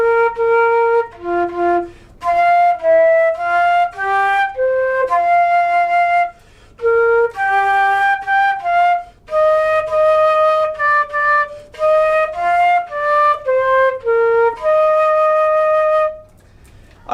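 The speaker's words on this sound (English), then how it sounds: "The flute is the highest voice in the woodwind family" A solo flute plays a lively melody of short and sustained bright notes in the high woodwind register, with brief pauses between phrases, close and clear with no talking.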